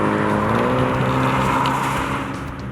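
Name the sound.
2019 Mini John Cooper Works sports exhaust revving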